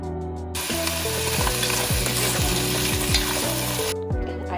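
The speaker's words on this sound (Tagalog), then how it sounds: "I-fry muna natin yung patatas at carrots." Potatoes and carrots frying in olive oil for a caldereta give off a loud, steady sizzle that starts abruptly and runs for several seconds, with low scraping stirs underneath, then cuts off.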